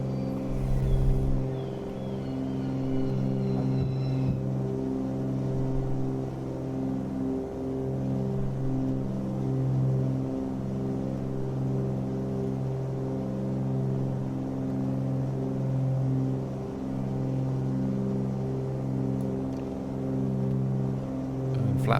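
Twin-engine Cessna 310 climbing after takeoff, a loud steady engine drone with layered humming tones that waver slightly over time, close and continuous with no talk.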